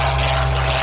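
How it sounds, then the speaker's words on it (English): A Soviet Ilyushin Il-2 Shturmovik ground attack propeller aircraft at the ILA Berlin 2018 air show gives a loud, steady, close engine drone with a low throbbing hum, without talking. "the Ilyushin Il-2 ground attack aircraft"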